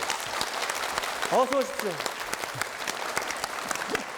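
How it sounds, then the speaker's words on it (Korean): A Korean TV show audience applauds steadily to welcome a trot singer back, while a host's voice speaks briefly over the clapping. "다시 한번 박수로 맞이해 주시기 바랍니다"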